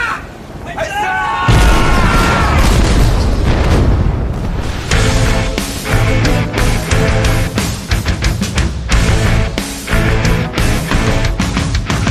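Cannon fire aboard a sailing ship in an audio drama, heavy booming blasts repeating in quick succession under dense, loud layered effects, after a short shouted command.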